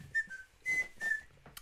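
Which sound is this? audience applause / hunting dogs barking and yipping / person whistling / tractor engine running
person whistling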